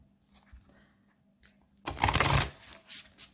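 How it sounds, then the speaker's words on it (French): Tarot cards are laid out with light taps and slides, then a dense, riffling shuffle bursts up close for about half a second before fading to softer card handling. "Allez, on pose les cartes."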